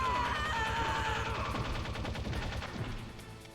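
Gunfire in Metal Gear Solid: rapid, evenly spaced shots ring out over a tonal game soundtrack and fade toward the end.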